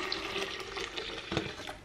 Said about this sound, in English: So I'm just gonna pour this tea in here.